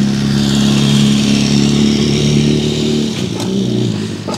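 A drift motorcycle engine roars steadily up close, holding a loud revving drone before easing off slightly near the end.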